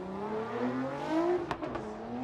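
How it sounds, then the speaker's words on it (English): A Nissan S15 drift car fitted with a GTR engine revs and whines during a Formula Drift qualifying run at Irwindale, its rising engine note distant under crowd ambience, with a few sharp tire or exhaust bursts. "So Taguchi really hitting his stride here in the S15, the VR engine, so it's a GTR engine poking out of the hood of the S15"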